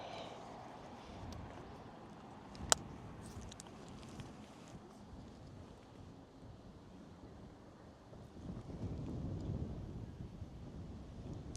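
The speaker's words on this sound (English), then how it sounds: "It's windy up in here." Wind rushing past while riding a scooter in Tokyo, a low steady roar with buffeting that swells louder near the end, plus one sharp click partway through, no talking.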